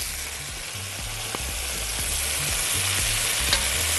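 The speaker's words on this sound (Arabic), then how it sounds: "حط الزبده كده. هننزل بالبصل" Onion frying in butter in a pan, a steady dense sizzle with a few soft utensil taps, slightly louder toward the end.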